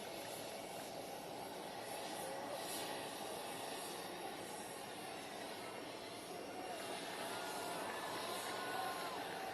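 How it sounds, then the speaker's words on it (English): The jet engines of Air Force One on the tarmac make a steady, broad roar that stays even and fairly faint throughout, with no clear change in level. "you have the sound of Air Force One still in the background too"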